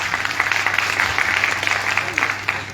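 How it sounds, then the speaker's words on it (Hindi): Audience applause at a wellness company's network marketing meeting, a dense continuous clapping that holds steady and close for a few seconds, a voice faintly mixed in beneath it. "तो इंडस्ट्री के लिए जोरदार तालियां हो जाए"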